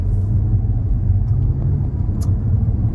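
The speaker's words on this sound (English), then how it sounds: "I'm gonna go ahead and set off here," An Audi S5 pulls away from a parked standstill, heard from inside the cabin as a steady low engine and road rumble at moderate level, with no talking.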